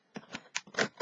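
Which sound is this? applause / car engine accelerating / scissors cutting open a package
scissors cutting open a package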